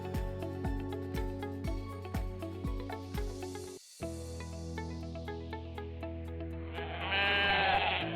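A goat and a sheep on a farm in Germany bleat in a run of repeated calls over steady background noise. A brief gap falls near the middle, then a louder, hissier burst comes toward the end.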